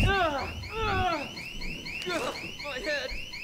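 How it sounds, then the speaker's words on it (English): An alarm in the zombie video game Dead Island 2 blares close and loud, a rapid repeating sweep of rising electronic wails that runs through the whole stretch. "if I break this open, it's going to sound an alarm"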